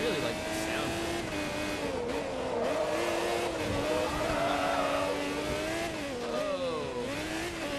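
A race car engine in the Forza racing game drones and revs continuously, its pitch climbing and dipping through gear changes, loud and close with occasional tire noise throughout.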